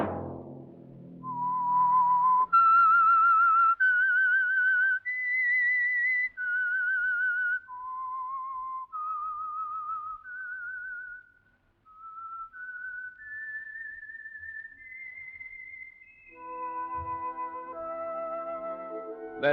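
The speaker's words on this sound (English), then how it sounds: "Let that whistle be your signal for the Signal Oil program" A clear, melodic whistled tune, the theme of the 1947 radio drama The Whistler, rises and falls through a slow series of sustained notes, close and steady, with no speech.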